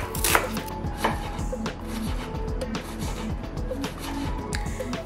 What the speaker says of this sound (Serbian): za to vreme ću ja 2 glavice crnog luka iseckati sitno